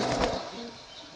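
Madrasi flying pigeons offered for sale give a brief, close burst of wing flapping that quickly fades.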